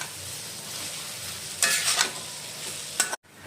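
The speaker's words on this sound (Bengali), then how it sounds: "আর এখন এই হলুদ লবণটা ভালো করে এই সবজিগুলোর সাথে মিশিয়ে নেব।" Vegetables tossed with turmeric and salt in a pan for fried rice, giving a steady low sizzle with a couple of louder scraping stir bursts near the middle and end, no voices.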